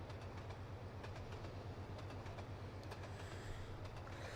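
A diesel train in the Trainz Simulator 2 game runs with a faint, steady rolling rumble and regular light clicks from the rails, with no voices.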